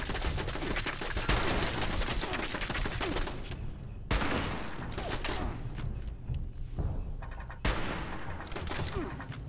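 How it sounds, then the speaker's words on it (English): Minigun fire in the video game Fallout 76, dense rapid bursts of gunfire in three long sustained volleys separated by brief breaks, loud and continuous. "Minigun."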